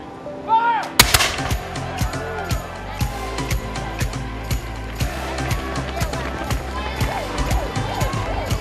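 Gunfire rings out in a run of sharp, loud shots at irregular intervals, with a crowd and voices audible between the reports.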